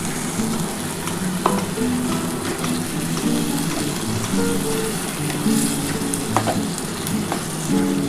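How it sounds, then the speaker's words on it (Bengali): Spiced masala water poured into a pan of frying egg masala sets off a steady, loud sizzle that crackles continuously throughout, with faint stirring and bubbling underneath. "এবার যে মশলার জলটা আছে এই জলটা দিয়ে দিচ্ছি, এই যে মশলার জলটা দিয়ে দিলাম।"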